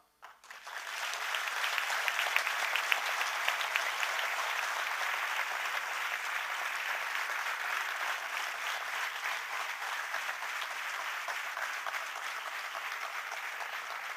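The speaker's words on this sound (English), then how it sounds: "Your claps motivate me." A large audience at an HR meet in Pune breaks into sustained applause after a talk, a dense, steady wash of clapping that rises quickly and holds at an even level throughout.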